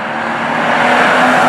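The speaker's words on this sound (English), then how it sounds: "Transmission shifts pretty lazily." A Maserati Ghibli with automatic transmission driving, its engine giving a steady, fairly loud drone that rises slightly over a brief stretch, with road noise and no talking.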